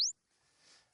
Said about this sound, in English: the dolphin call